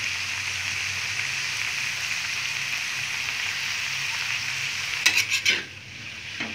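Cabbage and vegetables for spring rolls frying in a pan give a continuous close sizzle, then a quick cluster of spatula scrapes and stirs near the end before the hiss softens.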